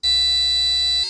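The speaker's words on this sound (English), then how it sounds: "but if we drop below 50, we start to get a warning" A Keyestudio KS0576 smart IoT house buzzer sounds a low-water-level warning, a single harsh, continuous electronic tone lasting about a second, loud and close.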